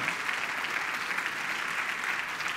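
A church congregation applauds hard at a pastor's call, a dense, continuous wash of clapping that holds at an even level throughout.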